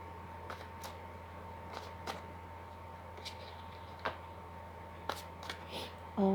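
Tarot cards are drawn and laid down one at a time, producing several soft, sharp flicks and taps over a steady low hum.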